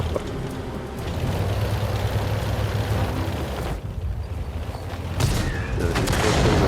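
Artillery shells firing and landing in a World of Tanks-style battle around an M56 Scorpion tank destroyer, a dense, continuous roar of booms and blasts, loud and close, with a sharper burst near the end.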